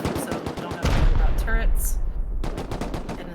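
Automatic gunfire in Rust pummeling a player base from a rooftop during a 3v3 tournament match, rapid sharp bursts with a dense heavy rumble through the middle and distant cracks trailing off near the end.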